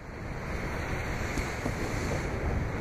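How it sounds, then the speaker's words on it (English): Ocean waves at Peggys Cove, Nova Scotia, surge and crash on the rocks near the lighthouse, a continuous loud broadband roar with heavy wind rush and no voices. "as the waves come in, crashing in"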